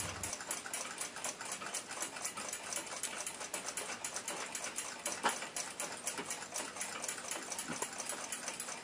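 A Waltham 7 jewel pocket watch balance wheel ticks in a rapid, steady stream of tiny close clicks that run continuously and quietly with no voices.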